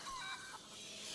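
A chicken clucks in short, faint bursts within the medieval game A Plague Tale: Innocence, brief and alone with a soft background.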